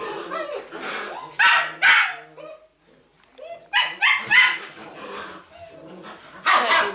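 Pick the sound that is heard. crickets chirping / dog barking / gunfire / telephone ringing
dog barking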